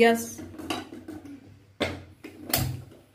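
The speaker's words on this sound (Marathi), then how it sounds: "चला तर ती गॅसवर उकडायला ठेवूया।" A metal cooking pot of potatoes clanks and scrapes as it is set down on a gas stove, several sharp knocks with short pauses between, close by, with a faint voice in the background.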